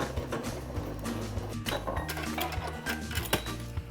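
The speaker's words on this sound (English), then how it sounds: "I'm just gonna put them right sides together and sew a 1/4 inch seam down each side." A sewing machine stitches a quarter-inch seam down a faux leather backpack handle, with a continuous close mechanical whir and fine rapid ticking throughout.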